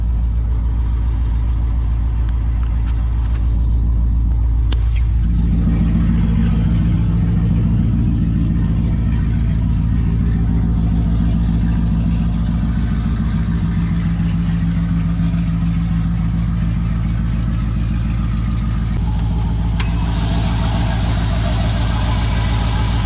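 A Nissan Patrol GU 4WD that has sat for a week cranks and fires up, then settles into a loud, steady idle close by with a low diesel rumble and no talking.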